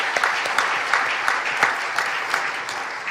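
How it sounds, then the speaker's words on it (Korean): A church congregation at a Friday overnight worship service claps together in a brief, even burst of applause, moderately loud with crisp individual claps standing out. "아버지 하나님께 다시 한번 영광의 박수 올려드리겠습니다"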